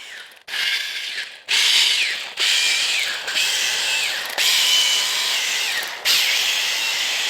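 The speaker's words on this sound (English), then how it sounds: "Then we're going to run this tool through the valve guides to clean them out" A power tool spins through the valve guides of a 1941 Chrysler engine, loud whirring bursts starting and stopping in several runs, close up with no talk.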